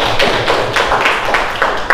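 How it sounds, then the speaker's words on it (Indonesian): Group applause from an audience in a classroom training session, a dense continuous patter of many hands clapping with sharper individual claps popping out, steady and fairly loud throughout. "Give applause everyone. Tepuk tangan."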